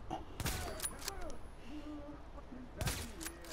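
Gunfire from the video game The Division: a few sharp, loud shots, one early and another near the end, over a steady game background with faint tonal effects. No one speaks.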